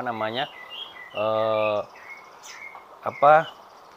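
A white-rumped shama sings nearby in short, varied phrases, rich whistled notes broken by brief pauses, with faint insect chirping in the background.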